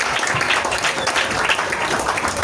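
Dense crowd applause at a church service, a continuous loud wash of many hands clapping with cheers mixed in throughout.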